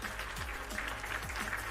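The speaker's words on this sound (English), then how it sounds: "Round of applause, round of applause." A round of applause sound effect plays on a stream: steady clapping throughout, even and fairly loud, with faint low voice-like sounds underneath.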